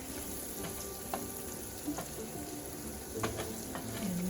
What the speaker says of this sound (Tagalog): Haluin lang natin siya para lahat ng side ay mag-brown.